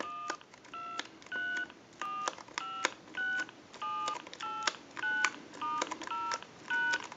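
Keypad tones dialing on an AT&T 530 telephone, a series of about a dozen evenly spaced dual-tone beeps, each short and clean with brief gaps, heard alone and close.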